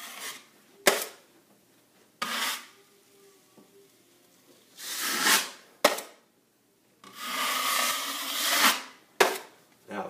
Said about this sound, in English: Now I'm just removing the excess mud from around the perimeter of the joint.